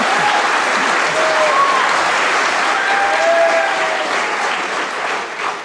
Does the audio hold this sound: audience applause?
yes